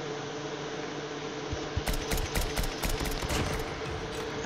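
Gunfire in the mobile shooter Standoff, a quick burst of rapid automatic shots lasting about two seconds over a steady hum of game background noise.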